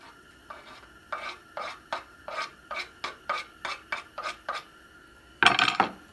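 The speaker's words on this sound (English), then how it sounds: "Give this a little bit of a stir." Homegrown garden onions stirred into a pot of canned goods, a steady series of about ten scraping strokes with a spoon against the pot, close and clear, ending in a louder rattling scrape.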